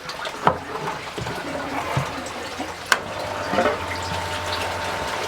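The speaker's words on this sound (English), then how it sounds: "the water flows in, then out of that pipe" Water runs and trickles through the pipes of a backyard greenhouse aquaponics filter, a soft steady flow close by, broken by a couple of sharp knocks and splashes.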